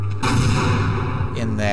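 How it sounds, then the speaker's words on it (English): A grenade bursts in Half-Life: Opposing Force with a sudden heavy boom that rumbles on for about a second, then tails off into quieter game ambience. "Now what if I toss a grenade"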